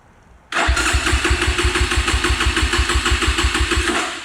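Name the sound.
cheap Amazon dirt bike engine starting after kickstarting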